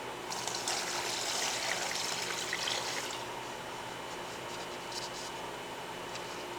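Liquid bacon cure is poured into a container, a steady trickling, hissing stream for about three seconds that then tapers to faint dribbling and scraping, close by with no talking.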